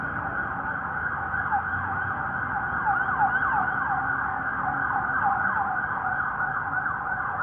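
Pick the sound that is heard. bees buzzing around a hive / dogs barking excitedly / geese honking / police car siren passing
police car siren passing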